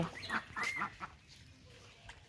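Fowl near rain-filled water in a village, with a few close clucks and quacking calls early on, then quieter background.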